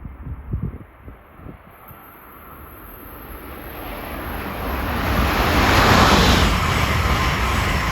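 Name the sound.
Amtrak train passing at high speed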